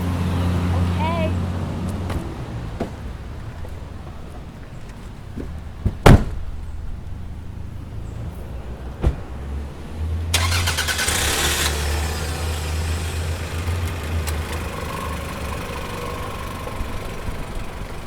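A car door shuts with a sharp thump, followed by a car engine starting and settling into a steady mid-pitched idle, with people talking nearby.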